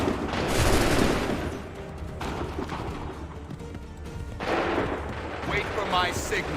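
Soldiers in the Assassin's Creed 3 game fire a musket volley: a loud ragged burst of overlapping shots that rolls and echoes, dies down, then a second crackling volley follows, all close and powerful.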